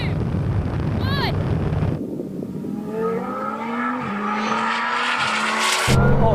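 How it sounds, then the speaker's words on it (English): A Bugatti Chiron Super Sport and a Lamborghini accelerate hard in a rolling race from about 40 mph in second gear, engines roaring and climbing through the gears with a brief squeal and heavy wind buffeting, loud and close. "We're going to do a rolling race from around 40 miles an hour in second gear."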